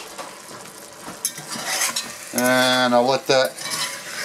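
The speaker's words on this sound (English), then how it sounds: "let me get that stirred in" Shrimp creole stirred in a pot, with a low sizzle and soft scraping strokes from the spoon as someone talks at the start and a voice hums briefly in the middle.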